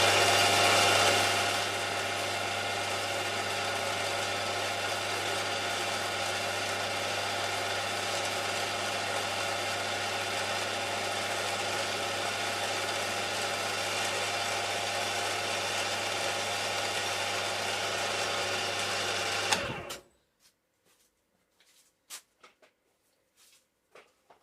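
A steady, loud machine drone runs continuously for about twenty seconds while drilling a hole in a metal lubricator pump body for a live-steam model, then cuts off abruptly, leaving a few faint clicks and taps in near silence.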